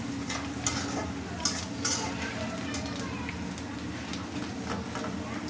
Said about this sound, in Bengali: মধ্যে পেঁয়াজগুলা দিলাম